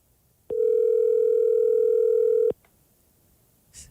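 A telephone call goes unanswered while a lottery draw winner is being phoned: one loud, steady ringback tone lasts about two seconds, then the line falls quiet.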